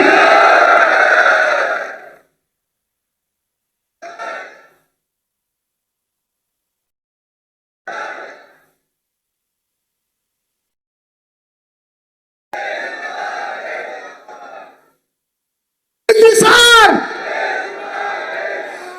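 A large crowd at a gathering in Karachi's Governor House roars back chant responses to a Takbeer slogan in loud, echoing unison bursts, with short pauses between calls and a sharp final burst.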